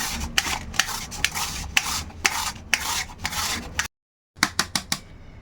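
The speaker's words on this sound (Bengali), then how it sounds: "তো কুমড়োগুলো একেবারে ঘষে নিয়েছি" Peeled pumpkin rubbed against a hand grater, close-up rasping strokes in a steady rhythm, a brief silent pause, then a quicker burst of scrapes.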